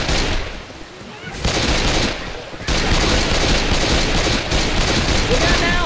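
Sustained gunfire rattles through a Left 4 Dead 2 zombie fight, dense bursts and rapid shots running almost continuously over the full length, loud and close, with brief lulls and voices talking over it.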